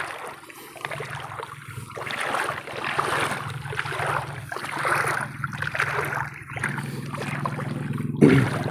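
A small fishing boat out at sea, with a steady motor drone under wind and wash of water against the hull, continuous and close, ending in a brief knock.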